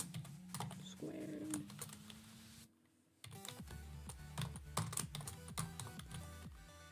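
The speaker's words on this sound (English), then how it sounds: "I feel like I'm in typing class when I'm typing in front of students." Computer keyboard typing in a classroom, rapid irregular key clicks that stop briefly near the middle and then resume, quiet and close.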